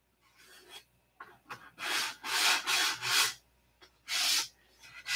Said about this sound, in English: What I'm doing here is known as color sanding.